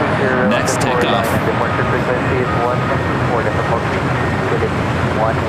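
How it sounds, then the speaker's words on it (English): A Philippine Airlines Boeing 777-300ER takes off at LAX, its jet engines producing a loud, steady roar throughout, with people talking over the engine noise. "Philippine Airlines Flight 113 heading back to Manila, 777-300ER. Next takeoff."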